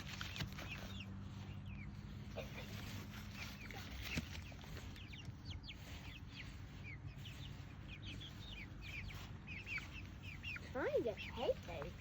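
Backyard pet chickens clucking and chirping softly at a distance, with scattered calls throughout and a brief burst of louder clucks near the end, while people talk quietly nearby.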